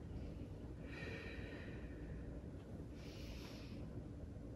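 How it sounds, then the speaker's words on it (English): Two deep, slow breaths are drawn and released during a Pilates exercise, soft and airy, each lasting about a second, faint against a quiet background hiss. "Take two big breaths here."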